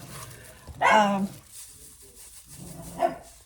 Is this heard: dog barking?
yes